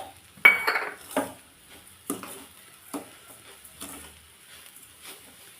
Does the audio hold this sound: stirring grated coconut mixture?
yes